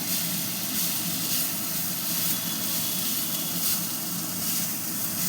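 A lit gas stove burner hisses steadily while fish head is cooked with rice, a constant broad roaring rush without breaks.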